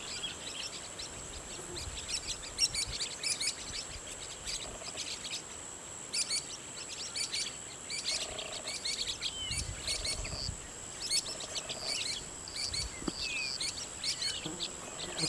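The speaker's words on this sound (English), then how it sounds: "These are blue-winged parrotlets" Blue-winged parrotlets calling outdoors in a group, a scatter of short, sharp chirps repeating across the scene at moderate distance over a steady insect drone.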